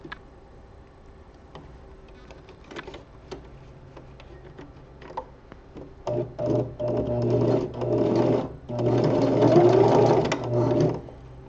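A sewing machine sews spandex gloves, starting with faint ticking and then running in several close, rhythmic bursts that grow louder and steadier toward the end.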